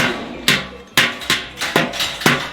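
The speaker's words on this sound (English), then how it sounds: "So you can hear all this loud banging behind me." Artisans hammer copper in the copper quarter of the Fez medina, Morocco: loud, ringing metallic blows land about twice a second in a steady rhythm, close by, with each strike decaying into the next.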